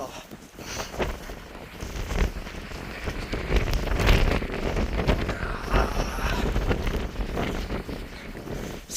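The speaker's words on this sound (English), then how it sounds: "So windy up here right now." Strong wind roars steadily across a mountain path in the Lake District hills between Keswick and Grasmere. It buffets the microphone with loud, continuous gusty rumble and rushing noise throughout.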